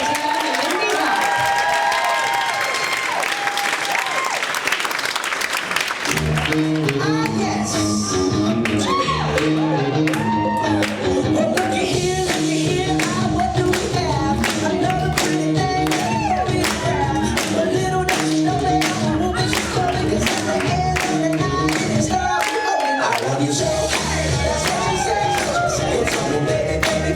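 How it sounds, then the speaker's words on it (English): Gala crowd applauding and cheering for a pair of dancers at a charity dance event, a brief burst of clapping before loud music takes over and runs on with shouts. "Please, again, one more round of applause for Megan and Aiden as they take on the Liberty Cup."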